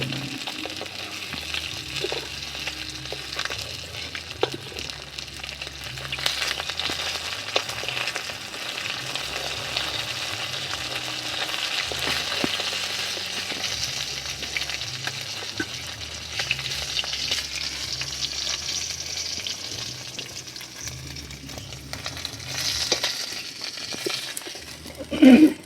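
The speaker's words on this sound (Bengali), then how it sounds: "মাছ ভাজা হয়ে গেছে আমার" Tilapia fish frying in oil in a village kitchen, a steady broadband sizzle running throughout with occasional stirring clatters and a brief louder knock at the very end; no talking.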